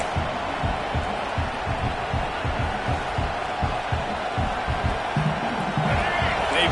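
A crowd at an OU vs Bama college football game roars in a steady, dense wash, with a commentator talking over it.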